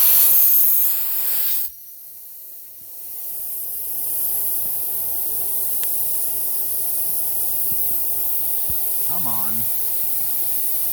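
A Hoover S3341 Constellation vacuum cleaner pulls air through a 32–35 mm hose adapter, giving a steady broad hiss that dips briefly then settles back to a constant rush, with a short spoken remark near the end.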